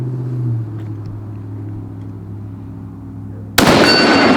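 A quiet low hum holds for several seconds before one sudden, loud bolt-action rifle shot at a steel plate. A brief ring trails after the blast.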